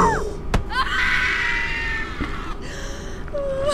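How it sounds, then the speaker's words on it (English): A shrill, sustained scream wails through the horror game Bunker 16, rising and wavering over a constant low ambient hum, with a sharp click near the start and a brief higher cry at the end. "I hear someone screaming again."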